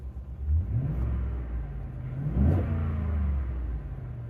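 A 2015-2018 Ford F-150 5.0 V8 pickup with a cold air intake, on a cold start, rumbles at a low idle, then revs up briefly partway through before settling back into a deep, throaty rumble.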